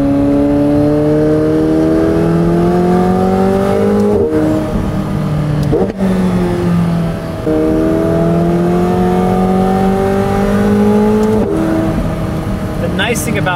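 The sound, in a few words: sports car exhaust revving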